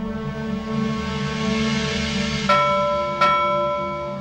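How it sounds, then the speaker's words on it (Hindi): A small hand bell is struck twice in quick succession, each strike ringing clearly with a short decaying tone over a steady low hum, close by inside a house. "मैं कहती हूँ बंद कर घंटी बजाना,"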